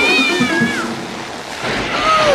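A cartoon cat on an airport runway lets out long drawn-out meows that slide downward, over a steady noisy background, with another falling meow near the end.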